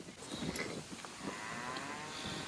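A cow or calf moos on a farm, a steady lowing call that carries over a soft outdoor background for a couple of seconds, with no talking.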